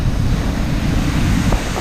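A forest waterfall pours down in a continuous, heavy rushing roar, loud and close, with steady broadband noise and no talking.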